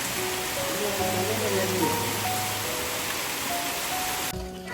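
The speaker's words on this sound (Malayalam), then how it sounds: "നല്ല മഴ എന്ന് പറഞ്ഞെങ്കിൽ നല്ല മഴ" Heavy rain pours down steadily as a dense, even hiss, loud and close throughout, with faint tonal sounds and low hum in the background before it cuts off near the end.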